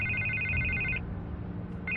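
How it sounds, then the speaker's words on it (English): A telephone rings in the Batman Telltale video game, two bursts of electronic ringing separated by a short gap, loud and alone over a low background hum. "I can't get the phone to stop ringing."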